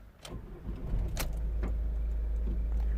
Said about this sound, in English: So let's start the car